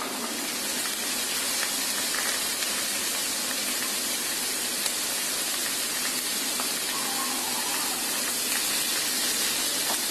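Boiled potatoes and green peas frying in a pan, a constant soft hiss and crackle of hot oil, even and unbroken with no talking.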